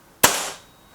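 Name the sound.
Rexime Myth .177 air rifle shot at target card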